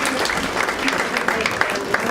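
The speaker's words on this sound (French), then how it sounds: "Allez, on les applaudit" A theatre audience applauds the actors after a play, a short burst of dense, close clapping over a murmur of voices.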